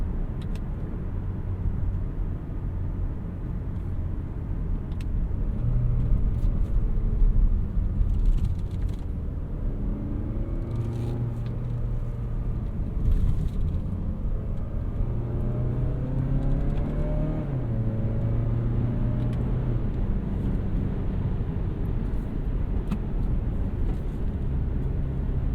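2022 Mazda CX-30 2.5 S Premium crossover driven briskly through a handling test in manual mode, engine revving up and down with tyre and road noise, heard from inside the cabin.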